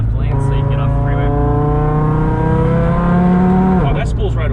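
Audi RS3 on the freeway pulling hard under acceleration, its engine note rising in steady harmonic sweeps with a turbo spooling up, loud and close from inside the cabin, easing briefly near the end.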